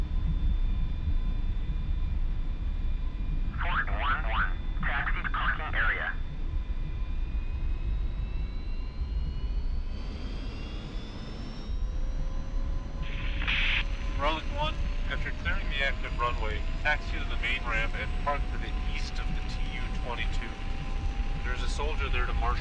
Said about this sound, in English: Relic 1 taxiing to parking.